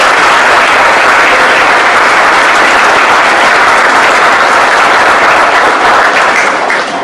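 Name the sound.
audience applause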